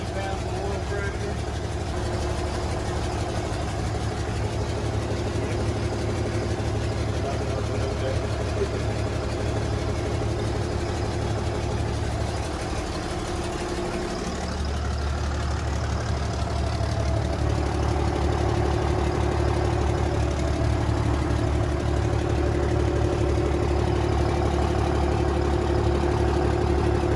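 The Cummins diesel engine of a drag truck idles with a steady low rumble throughout, rising in loudness in the later half, while a person talks over it.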